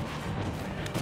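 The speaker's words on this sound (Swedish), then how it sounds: "Träffat med kanonkulan!" A cannonball shot fires in Super Smash Bros Ultimate, a brief dense booming blast that fills the moment loudly with no clear pause.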